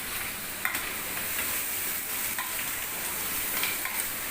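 Ginger, garlic, mint and coriander sizzle quietly in a pan for biryani, a soft, continuous frying hiss with a few light stirring scrapes, heard alone.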